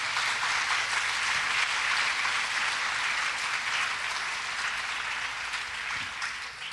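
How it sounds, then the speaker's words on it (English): Audience applause at an academic awards ceremony, a dense steady wash of many clapping hands, moderately distant and fading slightly toward the end. "How about another nice round of applause for Mrs. Cavanaugh?"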